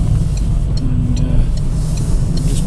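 A 2010 Citroen Berlingo 1.6 van on a test drive gives a steady close engine rumble with road noise while slowing and changing down gears, and a voice speaks over it.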